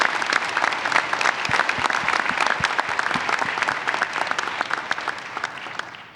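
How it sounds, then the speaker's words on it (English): A commencement audience applauds graduates' families in a steady, dense round of clapping that holds evenly for several seconds before tapering off slightly at the end. "I'd like to give another round of applause to the families"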